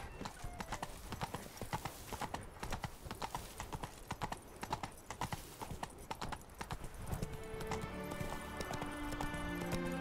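Galloping horse in The Witcher 3 video game, steady rapid hoofbeats running continuously with game music rising underneath toward the end.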